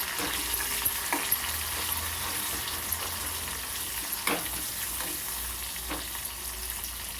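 Onion, curry leaves and four dried red chillies sizzle in hot oil for a dal tempering, a steady crackling fry with occasional stirring knocks and scrapes throughout, no talk.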